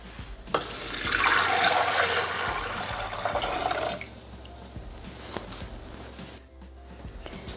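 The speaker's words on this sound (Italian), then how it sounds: "Iniziamo la ricetta mettendo all'interno del boccale l'acqua." Water is poured into a Thermomix TM6 mixing bowl, a loud gushing stream for about three seconds, followed by quieter drips and small kitchen handling noises.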